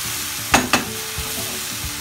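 Tawa chicken masala sizzles loudly in a pan as it is mixed, with a constant frying hiss broken by two quick utensil knocks early on and another knock at the end.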